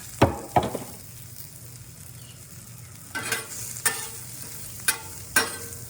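Onions stir-frying in a pan for a teriyaki chicken stir-fry: a low sizzle underneath sharp spatula scrapes and clacks, two early and four more later, close and fairly loud.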